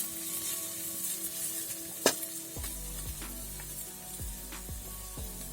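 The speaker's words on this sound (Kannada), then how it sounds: "ಚೆನ್ನಾಗಿ ಫ್ರೈ ಆಯಿತು ಈರುಳ್ಳಿ ಎಲ್ಲ" Onions fry for chicken cutlet, giving a steady close sizzle with a few sharp clinks and scrapes of a spoon against the pan, and no one talking.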